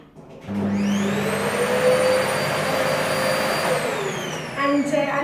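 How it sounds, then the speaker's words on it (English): A vacuum cleaner starts up and runs with a loud, steady whine and roar, pitch dipping slightly before some clattering at the end. "So I'm just going to give a quick vacuum"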